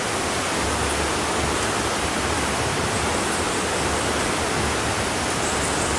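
A deep river rushes past in a loud, steady roar of churning water, continuous and close with no pauses and no voices.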